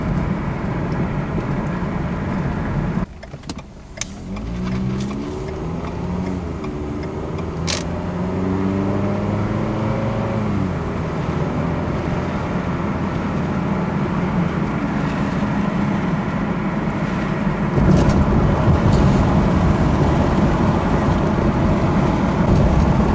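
A Ford Escape drives along after a transmission fluid top-up, its engine and road noise a steady close drone with rising and falling tones as it shifts through the gears, then growing louder near the end.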